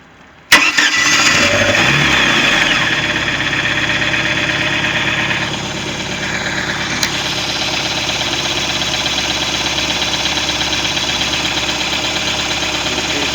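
Volvo Penta 3.0 L engine in a Regal 176 boat, fitted with a new starter and harmonic balancer, cranks briefly and catches, then settles into a loud, steady idle with a slight dip in the middle.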